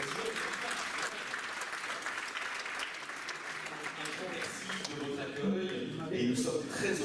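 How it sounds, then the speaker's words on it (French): Warm applause from an audience at an Amis du Crif event welcoming Anne Sinclair, many hands clapping steadily for several seconds with some voices mixed in beneath. "On applaudit."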